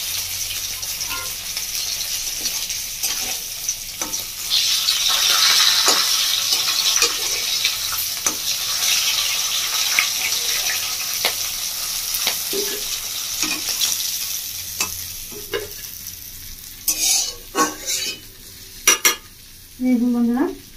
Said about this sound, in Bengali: মাছের মাথাটা আমার ভাজা রেডি